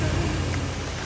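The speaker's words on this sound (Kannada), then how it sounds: "ಮಳೆ ಬೇರೆ ಬರ್ತಾ ಇದೆ ಇಲ್ಲಿ" Rain falls at a foggy hilltop viewpoint during the monsoon, a dense, even hiss of drops that stays steady and close for the whole second.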